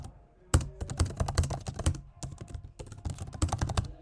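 Rapid bursts of typing on a computer keyboard, close and clear, with dense clusters of keystrokes broken by a short pause midway.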